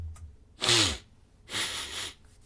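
Two loud, close sneezes about a second apart, each a sharp burst with a breathy rush, in a quiet room.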